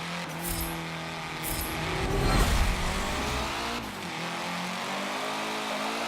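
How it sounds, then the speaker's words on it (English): A Nissan car engine in the racing video game Forza 7, revving up to a loud peak mid-clip then settling into a steady drone, with no talk. "Oh, now listen to that engine right there."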